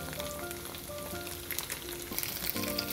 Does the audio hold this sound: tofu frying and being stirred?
yes